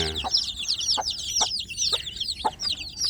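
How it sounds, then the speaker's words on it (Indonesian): Newly hatched village chicks peep in a dense, high, continuous chorus inside a box, while their mother hen gives short, low clucks at intervals, close by. "memelihara anak ayam kampung yang setelah menetas di dalam box didampingi induknya"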